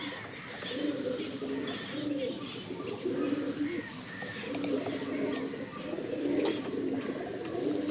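Several loft pigeons keep up a steady, rolling coo in repeated bursts at close range, with light chirps and occasional soft voices mixed in.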